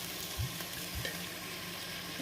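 Potatoes and onion fry in heated oil with a steady close sizzle, and a couple of brief stirring knocks come near the start and the middle.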